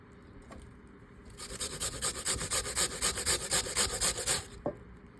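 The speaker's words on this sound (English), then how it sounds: "once I finished grating the potato and onion" A potato is grated on the fine holes of a kitchen grater for potato pancakes, giving a run of rhythmic rasping strokes, close and fairly loud, lasting a few seconds between quiet moments.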